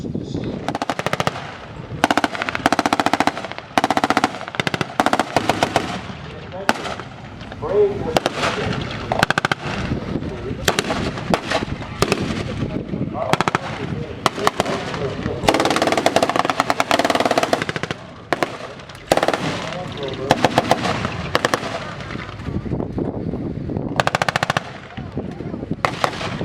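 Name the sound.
missile firing at tank museum demonstration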